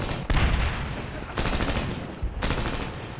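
Gunfire in the Medal of Honor video game: dense, close bursts of rapid automatic fire with sharp impacts, in a few loud stretches broken by brief lulls.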